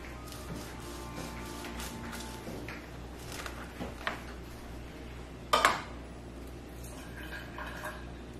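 A knife cuts through a hot combro, the Indonesian cassava snack, on a plate, with one sharp clink of metal on the plate about two-thirds through, over a soft, steady room hum. Nobody speaks.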